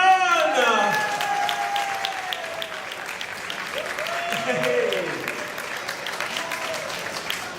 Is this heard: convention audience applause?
yes